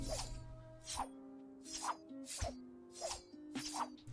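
Scythe pickaxe in Fortnite swung repeatedly, about six loud whooshing swipes in a steady rhythm roughly every half second, over a constant low game hum.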